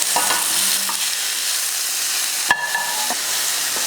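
Small onions and garlic sautéing in a pan, a steady close sizzle with a sharp utensil clack midway and light stirring scrapes.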